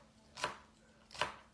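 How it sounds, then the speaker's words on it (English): A knife slicing green onions on a cutting board: two separate soft crisp cuts about three quarters of a second apart, close and fairly quiet, with no talking. "now I'm gonna work on slicing up my green onions"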